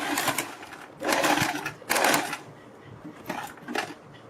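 Sewing machine stitching a plate neck design along buckram, in several short bursts of running stitches separated by pauses, close and moderately loud.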